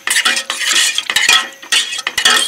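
Spoon stirring shrimp ramen clam scampi in a camp pot outdoors, steady scraping and clattering against the metal sides in quick bursts, close and loud, with no voices.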